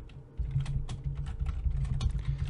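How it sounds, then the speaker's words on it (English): Fingers tap quickly on a computer keyboard, a close, dry burst of clicking keystrokes in an uneven rhythm over a low room hum. "you would simply type it in"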